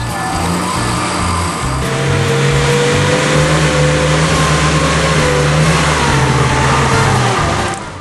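A 4WD vehicle climbs a slippery muddy track on mud-clogged tyres, its engine revving hard and close in a loud, sustained drone that swells and holds steady before easing slightly at the end.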